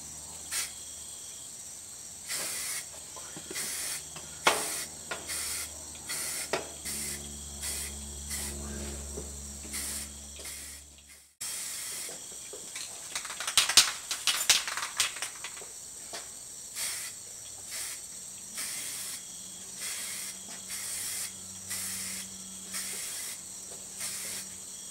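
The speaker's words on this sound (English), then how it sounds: "So we're gonna do our second coat on it with the primer." Aerosol spray can laying a second light coat of primer on a 2010 Kia Soul fender, repeated hissing bursts of varying length, close and steady, with short pauses between passes and no speech.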